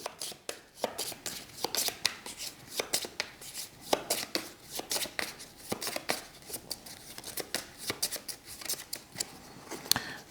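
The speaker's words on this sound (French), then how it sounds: "On les remélange. Alors on fait gaffe, tout à l'heure j'ai pas fait gaffe, on essaie de les mélanger dans le bon sens." A deck of playing cards for a samurai board game being shuffled by hand, with quick repeated riffling and snapping bursts in a close, uneven rhythm while a voice talks softly.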